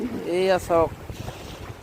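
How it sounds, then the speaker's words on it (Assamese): A small engine-fitted fishing boat rocks on rough Brahmaputra river waves, with wind buffeting the microphone and a steady watery rush. Someone speaks briefly near the start. "পানীৰ ঢৌৱে নাওটো একদম টলং মলং হৈ আছে।"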